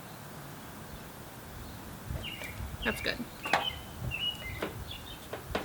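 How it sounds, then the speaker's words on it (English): Small birds chirp and call in short bright bursts outdoors, fairly faint in a quiet backyard where plants are being repotted, while a person speaks briefly over them. "You guys hear the birds?"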